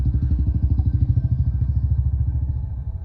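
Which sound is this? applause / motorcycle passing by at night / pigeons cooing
motorcycle passing by at night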